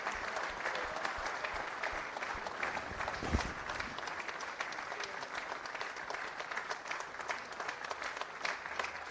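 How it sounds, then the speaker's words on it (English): An opposing Army football team applauds at a cup final medal ceremony, a steady outdoor patter of many hands clapping at moderate distance, holding even throughout. "they receive warm applause from their opponents"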